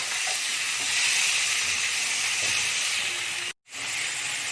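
Chicken fries in hot oil over a high gas flame, a loud, close, steady sizzle and hiss with faint stirring knocks, cut by a brief silent gap near the end, with no voices.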